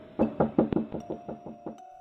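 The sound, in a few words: knocking on a front door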